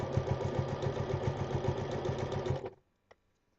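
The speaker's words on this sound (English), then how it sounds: "and then you're going to start sewing" A sewing machine runs in steady, rapid stitching with an even mechanical chatter, fairly close and loud, then stops abruptly near the end, leaving a brief quiet with one small click.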